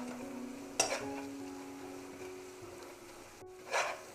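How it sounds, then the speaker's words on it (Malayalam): Chili powder and turmeric sauté in a pan for duck curry, a soft steady sizzle with a sharp stir or scrape near the start and another toward the end. "ഇതിൻ്റെ പച്ചമണം പോകുന്നത് വരെ ഒന്ന് വഴറ്റി കൊടുക്കണം"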